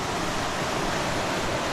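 Steady rushing of a muddy, sandy river in Tanzania, a constant broadband wash with no pauses or voices.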